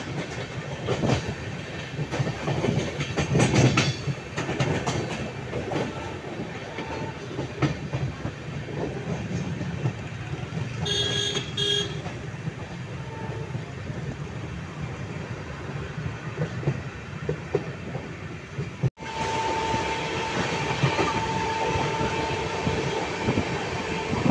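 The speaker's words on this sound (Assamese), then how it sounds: "ট্ৰেইনখন ইমান স্পীডত গৈছে" A train rushes along at speed, a steady rumble and rattling clatter of wheels on rails, close and continuous, with a brief dropout near the end.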